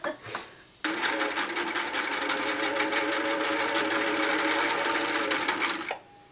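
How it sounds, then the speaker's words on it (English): A borrowed sewing machine stitching fabric, running at a fast, even mechanical rhythm for about five seconds before stopping, loud and close, after a brief voice at the start. "it's so fun using other people's sewing machines"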